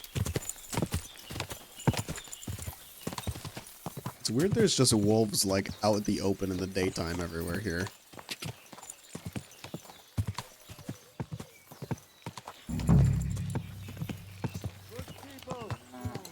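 Mounted horse hooves clop steadily beneath someone talking in Kingdom Come: Deliverance II, the rhythm continuing through much of the stretch, with a sustained tonal game sound in the middle and a low rumble near the end.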